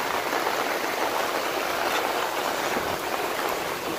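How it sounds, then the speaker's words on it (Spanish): Downpour over the city of La Unión at night: a thick, constant hiss of heavy rain striking surfaces nearby, loud and even throughout, with no talking. "Llueve fuerte en la Unión ahorita."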